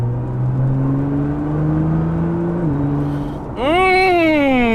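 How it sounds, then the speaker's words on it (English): A Nissan GT-R accelerates from inside the cabin, its engine note climbing steadily, dipping briefly on a gear change, then surging higher and louder. "It's so much fun driving the GTR."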